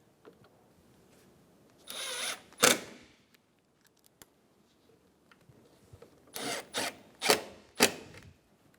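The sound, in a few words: power tool driving bolts on a Chevrolet Sonic grille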